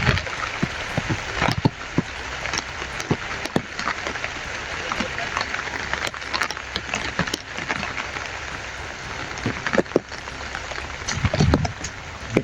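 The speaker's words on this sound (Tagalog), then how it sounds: "Kasi sobrang lakas ng ulan." Heavy rain pours down steadily as a broad, dense hiss with scattered sharper splashes and thumps, close and continuous for the whole stretch.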